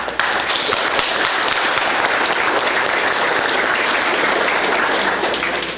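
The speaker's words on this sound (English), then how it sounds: "will you please give these guests a round of applause?" At a Sulphur Springs FFA banquet, the crowd gives special guests a loud, continuous round of applause, close and dense from start to finish with no voices over it.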